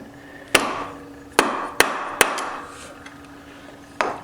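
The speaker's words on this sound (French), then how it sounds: "à l'aide d'une douille de cliquet par exemple, et d'un maillet, vous allez venir taper sur votre douille" A mallet taps a ratchet socket to seat the internal rotor of an Artek K1 ignition on the crankshaft, five sharp metallic knocks at irregular intervals, close and alone in a quiet workshop.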